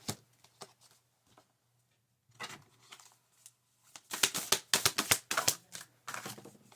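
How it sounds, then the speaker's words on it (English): A card pulled from a deck and handled, heard as quick papery flicks and taps that come in short bursts, close and fairly crisp, then a denser run of snaps toward the end, with no voices. "Let's get a card for the new person."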